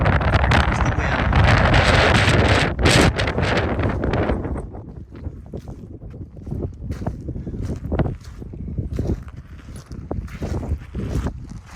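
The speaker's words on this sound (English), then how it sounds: "Here comes the wind." Strong wind gusting across an outdoor vehicle salvage yard in Montana, loud buffeting roar hitting the microphone at first, then easing into choppier, fluttering gusts.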